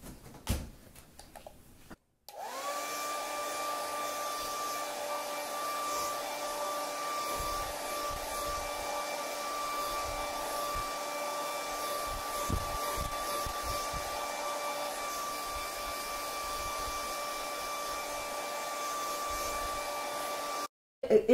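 A hair dryer blows steadily on a wet watercolor painting, a loud, continuous whine with a droning hum that runs without a break for about eighteen seconds, then clicks off.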